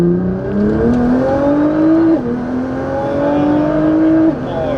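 Nissan GT-R running E85 fuel accelerating hard in second gear in manual mode, a loud, close engine note climbing steadily in pitch with a brief dip partway through, heard from inside the car.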